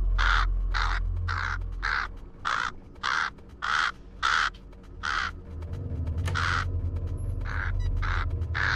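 A video game crow caws over and over in a steady, rhythmic run of about a dozen harsh calls. The calls are close and loud, then they thin out into scattered fainter caws as the background rumble rises.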